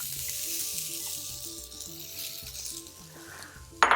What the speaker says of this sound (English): Throw some sliced onion into that.